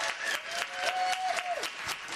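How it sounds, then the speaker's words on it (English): Faint, brief applause for performers at a radio broadcast, a soft scattered patter of clapping heard from a distance, with a quiet voice briefly over it. "Big round of applause for all the performers"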